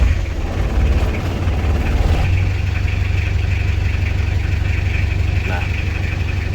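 A 12-volt car engine cranks and settles into a steady, close mid-pitched idle that hums on without a break, with a voice talking over it.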